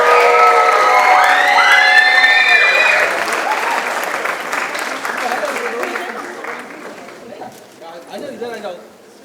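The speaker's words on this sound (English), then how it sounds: "Come on, ladies and gentlemen, big round of applause." Audience at a stage event breaks into loud applause with cheering and whoops, strong at first and then thinning out over several seconds as an announcer's voice carries over the clapping.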